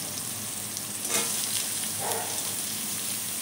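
Capsicum added to a pan with tomatoes fries under a dense, even hiss of sizzling oil, steady and fairly loud with a slight swell where the pieces are stirred, and no speech.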